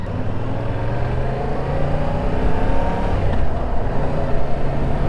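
Yamaha R7 motorcycle being ridden, a steady engine drone with rising and falling revs throughout, close and loud with no talk.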